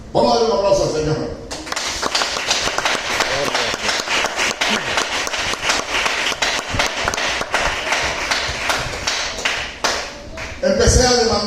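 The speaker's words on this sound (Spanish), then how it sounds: "Vamos a darle un aplauso al Señor." Church congregation bursting into sustained applause that fills the room for several seconds, dense and steady, with a voice at the very start and end.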